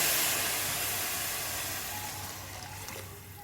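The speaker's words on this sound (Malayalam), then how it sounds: "ഇനി നമുക്കിതിലേക്ക് തിളച്ച വെള്ളം കൂടെ ഒഴിച്ച്" Boiling water poured into a pot of ghee rice (Malabar neychoru), a loud broad rushing hiss that fades slightly as the pour continues, close and alone.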